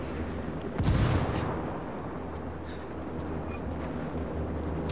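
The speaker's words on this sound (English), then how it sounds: "That Apache's gonna cut loose." An Apache helicopter lets loose in Ghost Recon Wildlands: one sharp, loud burst of gunfire near the start, then a lower rumbling battle ambience.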